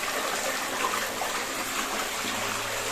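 Clear spring water flows steadily from the earth into a forgotten holy well, a close, continuous gushing and trickling with no voices.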